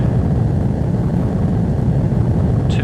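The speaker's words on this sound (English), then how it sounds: "we'll go full throttle and put our afterburners on" A Eurofighter EF2000 jet in a flight sim roars at full throttle with afterburners lit on the runway, a loud, steady, broadband engine rumble holding without a break.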